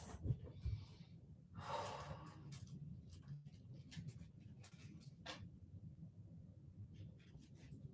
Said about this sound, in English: 3 more deep breaths.